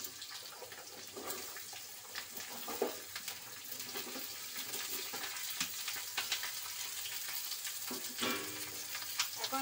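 Mixed vegetables with already fried potatoes sizzle steadily in a pan under repeated stirring and scraping strokes. The sound is fairly faint and continuous, with no voices.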